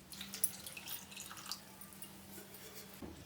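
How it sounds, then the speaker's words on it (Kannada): A cup of water poured into a pot where rice is cooking, a soft trickling pour with light drips, quiet and close, ending with a brief splash. "ಇವಾಗ ಇಲ್ಲಿ 1 ಕಪ್ನಷ್ಟು ನೀರು ಹಾಕ್ತಿದ್ದೀನಿ."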